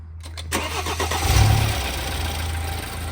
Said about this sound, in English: I guess first start after the fresh spark plugs.